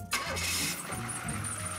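A truck's diesel engine cranks and fires, then settles into a steady, loud rumble close by, with no talk over it.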